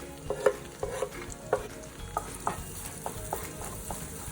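Chopped onion and cumin seeds frying in butter in a pan for pav bhaji, with a soft steady sizzle and a series of sharp utensil taps and scrapes from stirring, close up and with no talk.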